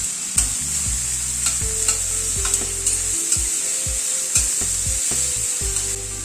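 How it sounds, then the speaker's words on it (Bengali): Chopped onions frying in white oil in a wok, a bright steady sizzle punctuated by repeated scraping strokes of a spatula against the metal, close and loud, no voices. "পেঁয়াজটাকে একটুখানি হালকা করে ভেজে নিচ্ছি"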